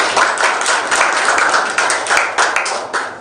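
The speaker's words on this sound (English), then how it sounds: "Alright, give yourself a big cheer first." Audience applause at a live tech meetup event, a steady dense crowd of clapping hands holding for several seconds at full strength.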